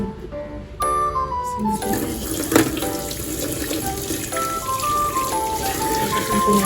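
Tap water runs steadily into a sink while abalone is being washed, a constant splashing hiss with some clinks and handling noises mixed in.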